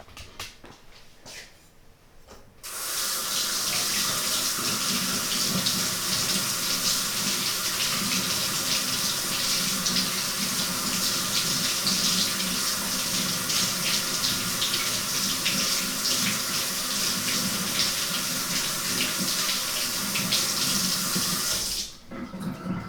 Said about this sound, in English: I'm just going to put it right under the water in the sink and see if that stuff just rinses